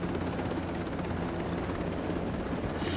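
Steady, dense rotor and engine drone of a helicopter in flight in the Ghost Recon Breakpoint video game, loud and constant without talking.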